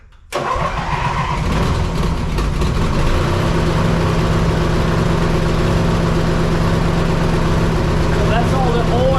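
A John Deere 116 lawn tractor engine, fitted with a new transaxle, cranks and catches on choke, then settles into a loud, steady idle close by.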